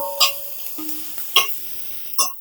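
Four or five large garlic cloves frying with onion in hot oil for a raw banana peel mash, with a soft sizzle and three sharp clinking stirs of a utensil against the pan, close up.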